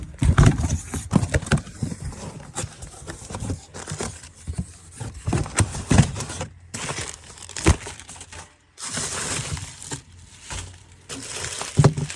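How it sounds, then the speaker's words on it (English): A parcel holding Corolla spare parts, including a wing mirror, is unboxed by hand. Close, irregular crinkling, crackling and tearing of the packaging comes in quick bursts, with brief pauses between them. "Last thing for the day, quick unboxing here."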